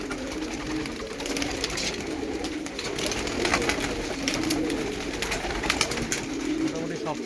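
Pigeons around their loft give soft, repeated cooing calls over a steady rustling background, with scattered fluttering and no one speaking.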